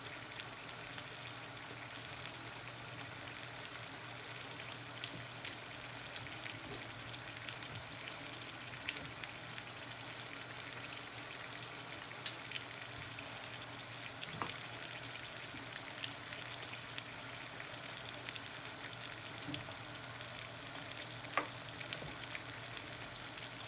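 Shrimp sizzle and fry in a seafood paella pan, a steady soft crackle with scattered pops continuing evenly throughout, faint and close with no talk.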